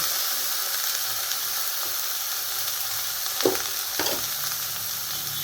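Brinjal fries in a pan with a continuous close sizzle and hiss, broken near the end by a couple of brief stirring scrapes; no voices.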